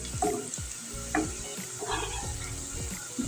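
Tadka with red chili sizzles in hot oil, a continuous close crackle with brief bursts of stirring and spattering.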